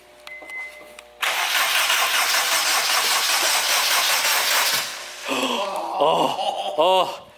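Acura RSX engine after a motor build cranks with a whirring starter, catches into a loud steady run for several seconds, then settles as excited voices talk over it near the end.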